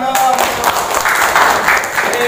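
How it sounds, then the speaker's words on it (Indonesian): Audience applause in a hall right after a Quranic recitation at a teacher-training event, a dense, steady patter of clapping lasting a couple of seconds with some voices mixed in. "Tepuk tangan dong."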